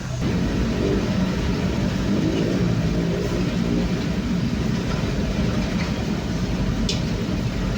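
Motorcycle with a super turbo muffler exhaust riding along a road, giving a loud continuous engine drone and rumble with rushing wind noise that holds steady throughout.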